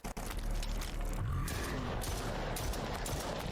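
Rapid bursts of gunfire from the video game Stray Souls crackle in a dense, fairly faint volley lasting a few seconds, with no talking over it.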